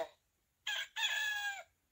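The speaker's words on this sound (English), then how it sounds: "Oh, happy day, crowed the... Rooster." A rooster crows once, loud and close, the call rising in two strained bursts with a short break between them.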